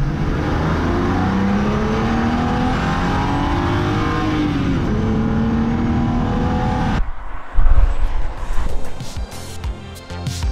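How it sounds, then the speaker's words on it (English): A BMW Z4 Coupe E86 with the naturally aspirated 3-litre N52 straight six, heard from inside and accelerating hard. Its loud rising engine note climbs through the revs, then an abrupt shift drops to quieter, uneven running. "we've got a 3-litre naturally aspirated straight six, the N52, one of BMW's greatest straight six engines"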